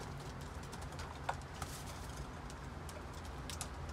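Pigeons cooing inside a loft, soft repeated coos among faint bird calls and light shuffling, with a few small knocks and no talking.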